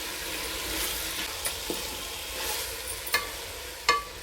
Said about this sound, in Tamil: இது எல்லாத்தையும் நல்லா வதக்கிக்கணும்